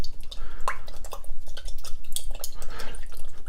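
Fermented tomato seeds and pulp being stirred in a jar, with close, wet squelches and soft clinks of the utensil against the glass in an uneven rhythm.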